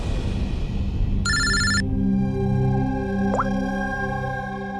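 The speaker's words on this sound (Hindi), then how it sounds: "सर, पुणे पुलिस स्टेशन से फोन था।" A telephone gives one short electronic ring, bright and clear, over a loud sustained musical drone in a police drama scene.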